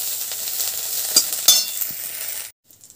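Vegetables for a mustard chorchori-style dish fry in a pan with a steady sizzle, broken by a few sharp stirring clinks. It stops abruptly near the end, leaving a short quiet tail.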